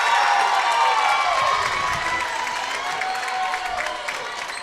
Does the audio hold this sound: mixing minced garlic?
no